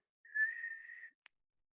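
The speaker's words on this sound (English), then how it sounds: "I'm about to push out a whistle." A single person whistles one steady, sustained note for nearly a second, close and clear, followed by a brief faint click; no one talks over it.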